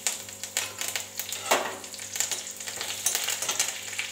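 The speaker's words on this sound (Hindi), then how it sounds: "अब इसे हम तड़का लगाएंगे। सरसों तल दिए हैं, जीरा सरसों और" Mustard seeds, cumin and curry leaves sizzle and crackle in hot oil for a tempering, with steady frying hiss and irregular sharp pops, close and fairly loud with no talking.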